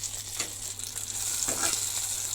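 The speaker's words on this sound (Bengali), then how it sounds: "তো আমি দিয়ে বেগুন ভাজাটা বসিয়ে দিলাম অঙ্কুশের জন্য" Aubergine slices sizzle in a pan with a steady, close hiss, a couple of brief scraping stirs rising through the frying noise; no one speaks.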